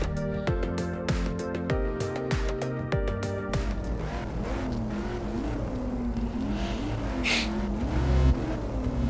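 Bugatti Chiron or Veyron engine in the Rebel Racing racing game, a steady synthesized engine drone rising and falling in pitch through gear shifts, with music-like tonal layers early on and a brief bright burst near the end.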